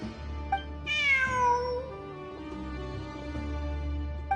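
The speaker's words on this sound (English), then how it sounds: "Look! A cat!" A cat in the video game Genshin Impact gives one clear, drawn-out meow that falls in pitch. It sits over soft background music, with faint short sounds before and after.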